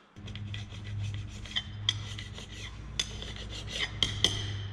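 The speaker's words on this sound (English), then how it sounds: "let's go ahead before we get too carried away and get the old gasket removed" An old gasket is scraped off an Allison 3000 transmission, with close scratchy rubbing and several sharper metallic ticks and scrapes, moderately quiet, no speech.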